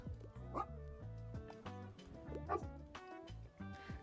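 Cartoonish dog in the video game Tiny Bookshop, a series of short, high, yippy barks and whimpers repeating rhythmically over about four seconds, clear and close.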